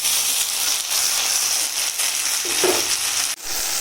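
A steady, close hiss and crackle of fried onion with a paste of ginger, cumin, dried chilli and garam masala sizzling in oil with bay leaves, continuous with slight stirring swells and no talk.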